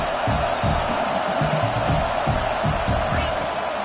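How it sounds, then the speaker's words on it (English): Stadium crowd roaring in the College Football 26 video game, a dense continuous wall of cheering and noise that holds loud and steady throughout. "Listen to this crowd just shaking the girders of this place, trying to help their defense."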